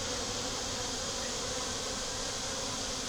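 Honey bees buzz steadily around nucleus hives in a bee yard, a dense, continuous drone of many wings close by with no voices.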